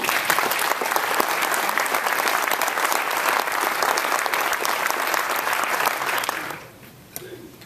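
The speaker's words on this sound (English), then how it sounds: "So why don't I just lead some applause for our legislators in this." Audience applause for state legislators at a governor's public forum in Alaska, steady dense clapping from a large crowd that carries for about six seconds before quickly fading out.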